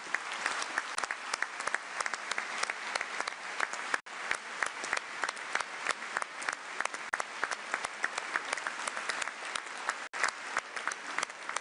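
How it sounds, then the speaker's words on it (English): Steady audience applause in a hall at an EU leaders' event, many hands clapping in a dense, continuous wash for nearly twelve seconds, moderately distant and without speech. "give them a round of applause"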